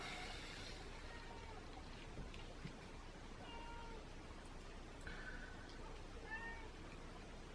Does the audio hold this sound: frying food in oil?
no